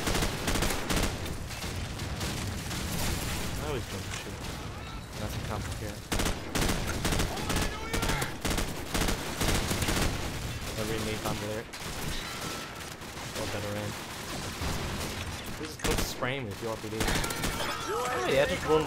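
Gunfire in Call of Duty 4 team deathmatch multiplayer on the map Bog: repeated bursts of shots and explosive cracks throughout, mixed with game effects, while players talk over the action.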